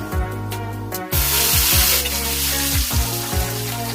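Onion paste hits hot oil with whole spices (dried chilli, bay leaf, cinnamon, clove, cardamom, cumin): after a few clinks, a loud, close sizzle erupts and continues, with repeated scraping stirs of a utensil in the pan.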